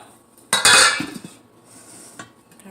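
Dishes and cutlery clatter sharply as food is tipped into a bowl in a home kitchen, one loud burst of clinks followed by a few lighter knocks, close up with no talking.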